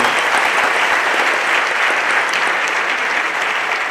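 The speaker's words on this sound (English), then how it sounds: "Give them a big round of applause, everyone." A Las Vegas casino theater audience at a mentalist show applauds: a dense, steady wash of clapping from a large crowd that holds at full loudness for the whole stretch, with no voices above it.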